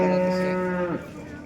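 A cow moos once at a cattle market, a loud, close, sustained low call that drops off abruptly after about a second, with faint market noise behind.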